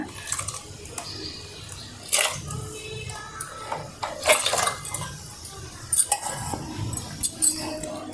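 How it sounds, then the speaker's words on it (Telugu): Soaked sago mixed with rice flour into a smooth, lump-free batter, giving irregular clinks and knocks of a utensil against the bowl with wet stirring between them, close up and with no talk. "ఉండలు లేకుండా మంచిగా కలుపుకోవాలి"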